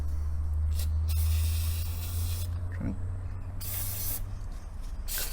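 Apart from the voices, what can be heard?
aerosol degreaser being sprayed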